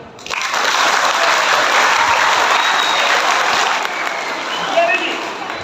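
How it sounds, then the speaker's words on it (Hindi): A magic show audience bursts into loud, sustained applause, dense and even for several seconds before thinning slightly toward the end. "आप तालियां जा रहे हैं।"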